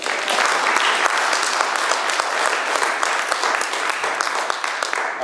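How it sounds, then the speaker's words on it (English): Conference audience applause, a loud, sustained patter of many hands clapping evenly that continues throughout. "Can we give her a more loud applause on that?"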